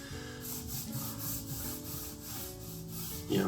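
A Schecter Omen Extreme guitar is sanded by hand with 3000 grit sandpaper, producing rhythmic close rubbing strokes roughly every half second with a soft hum underneath.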